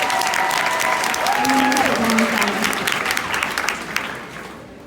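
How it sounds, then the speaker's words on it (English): A school audience applauds scholars in a dense, sustained round of clapping that slowly fades, with voices and cheers mixed into the crowd noise. "Let's clap it up for these scholars."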